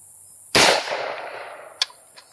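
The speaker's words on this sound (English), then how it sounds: "Load the gun. Turn her from safe to fire." A single AR-15 rifle shot fired at a clay target outdoors, a sharp loud crack with a long decaying echo, followed by a faint distant impact or report.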